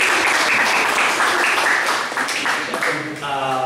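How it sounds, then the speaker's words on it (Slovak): An audience at a student pre-election debate for the academic senate applauds, a dense steady round of clapping while a voice talks over it near the end. "To si zaslúži potlesk."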